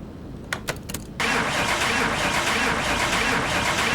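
A car engine in the Car Mechanic Simulator game cranks with a few quick starter clicks, then catches and settles into a steady, loud, close idle that runs on without talk.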